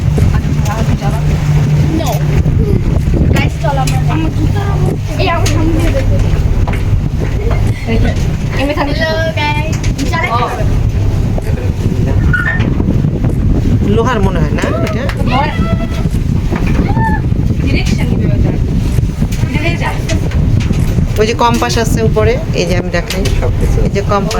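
Motorboat engine droning steadily while the boat runs at sea near Jamtala beach in the Sundarbans, loud and continuous with heavy wind buffeting the microphone and people talking over it.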